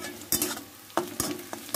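Onions frying with a soft sizzle, interrupted by several quick scraping stirs of a spoon against the pan.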